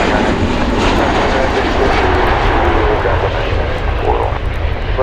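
A fixed-wing airliner roars down the runway on takeoff at Chicago O'Hare in wet weather, a loud, broad, sustained engine rumble heard from nearby, with air traffic control radio voices talking over it.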